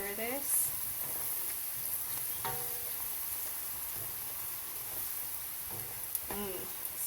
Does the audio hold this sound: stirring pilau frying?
yes